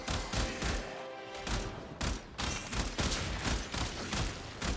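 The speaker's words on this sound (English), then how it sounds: "It's the 3-round burst with a high firing rate is just so deadly." An Incarnon weapon in the video game Warframe fires rapid three-round bursts, sharp loud cracks repeating in quick clusters with brief gaps between them, dense and punchy throughout.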